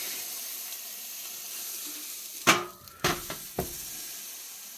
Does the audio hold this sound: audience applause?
no